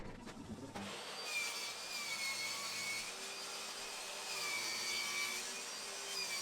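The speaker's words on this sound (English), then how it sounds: "Then I could rip it to its final width on the table saw too" A table saw ripping plywood to width runs as a steady, moderately loud whine with a faint ringing tone, after a brief muffled knock at the start.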